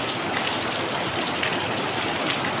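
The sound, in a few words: rain falling heavily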